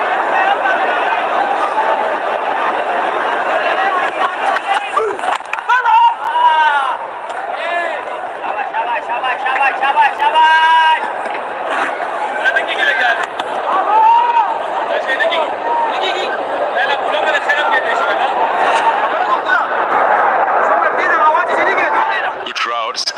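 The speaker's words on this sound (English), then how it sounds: "Good crowd, it's picking up." Crowd noise from the stands at a Lahore cricket stadium during a Pakistan versus New Zealand one-day match, a steady, fairly loud murmur of chatter and scattered laughter that continues unbroken.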